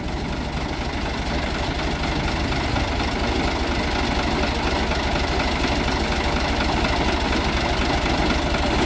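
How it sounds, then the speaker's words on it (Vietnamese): A Ford 4600 tractor engine runs steadily close by, a loud continuous diesel rumble with an even knocking pulse and no pauses or talk. "Đang thao tác vận hành máy cho các bác xem."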